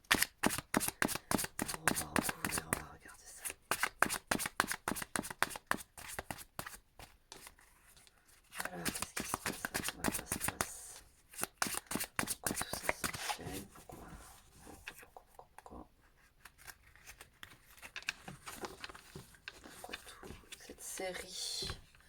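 Tarot cards are shuffled close up in quick, crisp riffling bursts with brief pauses between them, under a soft voice speaking French.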